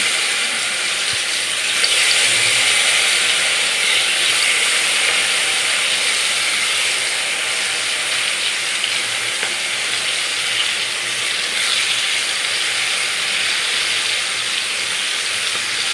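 Okra pieces fry in hot ghee in a pan, producing a loud, unbroken hiss and crackle that stays dense and even throughout, with no talking.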